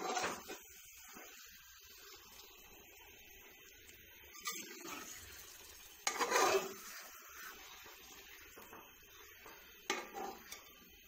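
A spoon stirs chicken masala in a cooking pot, giving soft scraping and clinking against the metal amid a faint sizzle, with a few louder knocks and scrapes spaced apart.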